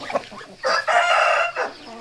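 A fighting rooster crows loudly and close by, one drawn-out call with a short tail at the end, following a few soft clucks.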